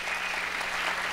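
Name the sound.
audience applause welcoming a speaker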